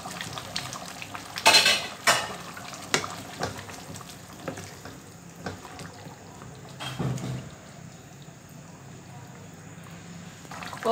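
Yogurt stirred into chicken cooking in a pot for achaar gosht, with spoon clatter against the pot, a few sharp scrapes and a soft ongoing sizzle; a voice speaks briefly nearby.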